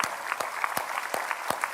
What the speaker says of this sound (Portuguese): Vamos dar uma salva de palmas para todo esse grupo